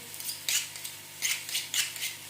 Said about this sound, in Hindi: उतनी देर में अब मैं अपने जो हैं वेजिटेबल वो कट कर लूँगी